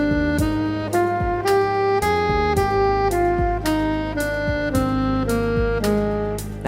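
A keyboard plays the F Lydian mode as a scale, note by note, at an even pace. The bright tones climb and then descend in about ten distinct strikes, clear and close with no talk.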